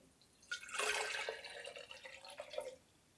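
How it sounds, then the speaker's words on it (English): Water poured from a tall, skinny container into another vessel, a steady splashing gush lasting about two seconds and then trailing off, close and fairly quiet. "I'm going to pour it in here and then put a line where it comes up to."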